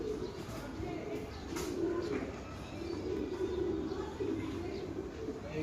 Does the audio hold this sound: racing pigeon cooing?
yes